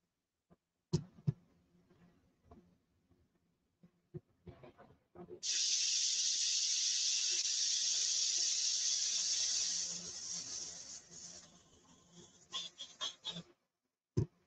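An airbrush sprays paint onto Viper trim in a steady hissing burst of about four seconds, preceded and followed by clicks and handling noises, with no talking.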